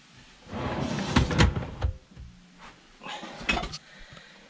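Wooden drawer being slid and knocked into place in an overland camper's kitchen unit, with a cluster of close thuds and scraping clunks in the first two seconds, then quieter knocks and a final bump.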